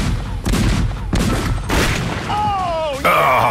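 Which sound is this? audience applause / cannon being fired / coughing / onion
cannon being fired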